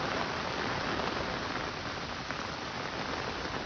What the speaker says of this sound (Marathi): तुम्हाला दिसते पाऊस किती जोरदार येतो